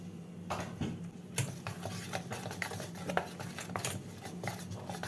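Gram flour batter for stuffed bottle gourd leaf pakoras is whisked by hand in a bowl, giving soft, uneven utensil taps and wet stirring scrapes at close range, fairly quiet and steady, with no talking.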